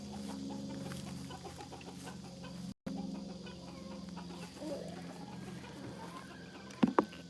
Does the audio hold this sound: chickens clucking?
yes